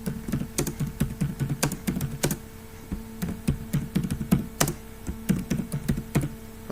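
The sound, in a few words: typing on a computer keyboard in a Word document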